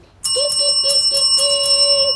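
A bright, chiming notification bell rings in quick repeated strikes over a sustained ringing tone, loud and close, with no voices.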